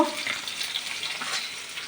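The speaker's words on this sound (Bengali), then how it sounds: "পেঁয়াজ টমেটো ভাজা হচ্ছে" Onions and tomatoes fry in a pan with a continuous crackling sizzle, broken by the scrape of stirring, with no voices over it.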